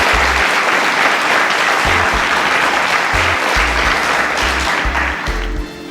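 Steady applause from a quiz show audience for a contestant, dense and continuous, with a rhythmic low thumping beat underneath throughout.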